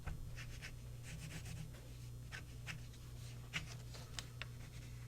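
A pencil sketches a latch guard onto a drawing, giving soft, scratchy strokes in short irregular bursts against a steady low hum, close and quiet.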